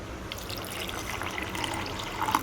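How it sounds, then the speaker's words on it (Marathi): A steady, quiet pour of water into ground crab curry ingredients runs continuously, with light trickling and bubbling, close by and without voices. "आता आपण त्यामध्ये पाणी ओतूया"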